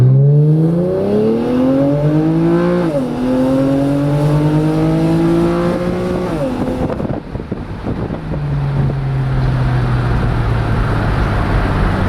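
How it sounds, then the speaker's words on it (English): A 2008 Infiniti G35 sedan accelerating hard from a standstill to 60, engine note climbing steadily through gears with brief dips at shifts, loud and close from inside the car, wind noise rising toward the end. "we are going to test our 0 to 60"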